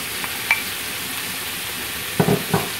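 Chopped bell peppers, carrots and cabbage sizzle in a pan with a steady close hiss, broken by a few sharp clinks and scrapes from stirring near the end.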